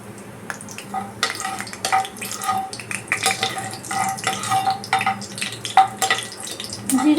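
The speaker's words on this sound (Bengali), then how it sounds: "প্রথমে আমি দিয়ে দেবো হচ্ছে জিরে, গোটা জিরেটা।" Whole cumin seeds fry in hot oil in a pan for a potato curry, giving a steady close sizzle and crackle with occasional stirring and utensil clinks; no one speaks.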